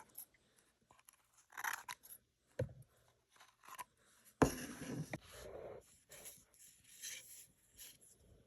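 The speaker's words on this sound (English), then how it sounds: "Now I'm just cutting off the excess paper." Scissors snip away excess rice paper on a decoupage air-dry clay trinket bowl, giving quiet, close, intermittent crisp cuts with soft paper rustles in between.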